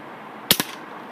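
A single sharp, close shot from a Crosman air pistol rings out in a quiet backyard, followed by a quick second crack or echo and then near silence.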